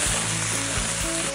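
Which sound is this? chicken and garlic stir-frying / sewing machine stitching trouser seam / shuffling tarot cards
chicken and garlic stir-frying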